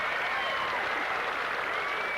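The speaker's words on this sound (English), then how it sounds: "the applause" Tennis crowd applause at a women's match, a steady dense wash of clapping filling the whole stretch at moderate, even loudness, with no voices standing out.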